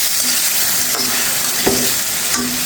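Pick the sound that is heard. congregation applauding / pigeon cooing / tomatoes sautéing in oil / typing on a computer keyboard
tomatoes sautéing in oil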